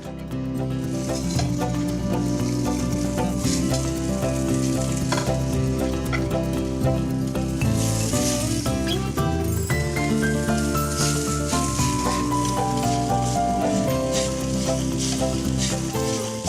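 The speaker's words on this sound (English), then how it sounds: "we are ready to sear the shrimps" Shrimp searing in a hot pan give a continuous, even sizzle that lasts throughout, blended with steady tonal background music.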